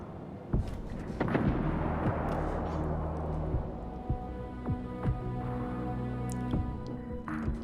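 Heavy naval cannon fire from a Missouri battleship in World of Warships Legends, with several booming shots spaced through a rumbling battle mix, loud and close, with no talking.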